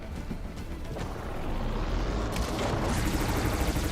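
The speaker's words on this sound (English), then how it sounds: "Oh, that's gunfire!" Gunfire in the video game Horizon Forbidden West, a dense, rough burst of shots and blasts that grows louder partway through, with no talking.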